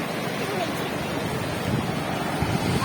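Ocean waves at a beach near Konark make a continuous roar of surf mixed with wind buffeting the microphone, steady and loud throughout.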